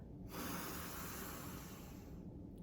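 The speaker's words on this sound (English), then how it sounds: "And then we'll take one deep breath to finish. Inhale." One deep, slow inhalation during a seated chair yoga session, close and soft, a steady airy hiss that fades out near the end without words.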